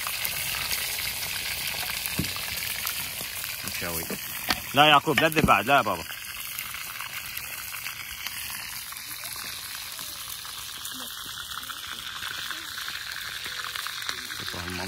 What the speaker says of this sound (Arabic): هاي السمك قلي